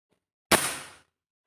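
A single test shot from a BOCAP Terminator 500 cc PCP air rifle, one sharp loud crack that decays over about half a second, with silence before and after.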